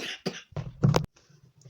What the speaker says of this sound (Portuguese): A tosse atacou aqui, tive que ali tomar um remédio